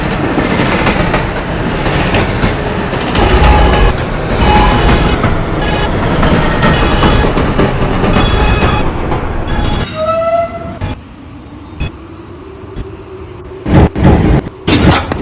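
A New York City subway A train bound for 207th Street runs loudly along the rails with rumbling wheels and clatter, then squeals and brakes as it slows, and a door chime rings near the end.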